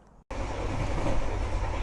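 A passenger train runs on rails in Valencia, Spain, the loud steady rumble and clatter of the carriage starting abruptly after a short quiet moment and continuing unbroken with no voices.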